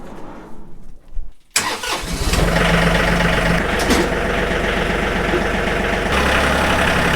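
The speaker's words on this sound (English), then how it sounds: "we'll get the tractor out of the barn, let it get warmed up" A John Deere 3033R tractor engine cranks and catches, then settles into a steady, loud idle close by as it warms up outside a barn.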